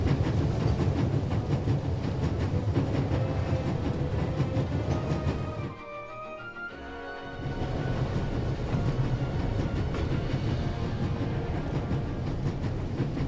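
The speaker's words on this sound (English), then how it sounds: "There's nothing quite like traveling on a train." An Orient Express train in the adventure game The Raven rumbles along with a steady low clatter of wheels and carriage noise, briefly dropping away into a quieter, thinner passage midway before the rolling sound resumes.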